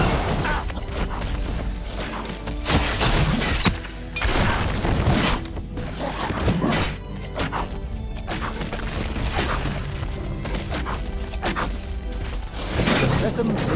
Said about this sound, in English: Unimpressed, the absolute evil began to destroy the second sacred stone.